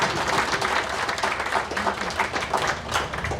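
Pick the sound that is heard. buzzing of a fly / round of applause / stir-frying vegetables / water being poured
round of applause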